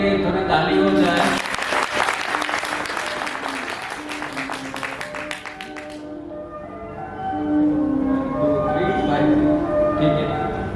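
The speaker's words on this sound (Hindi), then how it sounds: "उसके लिए थोड़ी ताली हो जाए" Seminar attendees break into loud, dense clapping for a few seconds that stops abruptly, followed by a speaking voice over faint background tones.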